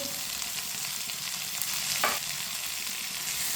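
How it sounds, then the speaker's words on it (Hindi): Finely chopped tomatoes and green chillies sizzle and fry steadily in a hot pan, a dense crackling hiss with a brief stirring flick midway, no voices. "तीन टमाटर डालेंगे बरीक कटे हुए, 3 सब्ज मिर्च डालेंगे"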